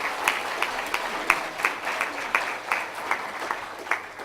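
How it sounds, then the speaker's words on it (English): A small audience at an awards gathering gives a quick round of applause for Antonio, light clapping with distinct hand strikes at a fairly regular pace, moderately near and not very loud. "So we have a quick round of applause for Antonio"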